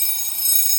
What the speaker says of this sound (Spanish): tú le dabas cuerda, adentro tiene unos engranajes y tiene un martillito que hace sonar una campana